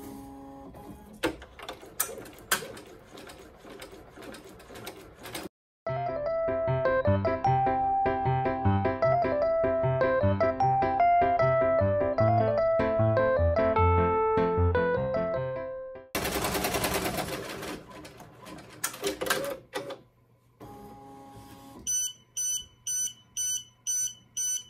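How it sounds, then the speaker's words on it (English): A multi-needle embroidery machine stitches letters on an in-the-hoop hand sanitizer holder, a loud, rapid mechanical chatter with beeping tones that runs steadily for several seconds, then gives way to short whirring bursts and a string of regular electronic beeps. "And then I'm going to hit start, and it's going to go ahead and stitch all of the letters without stopping."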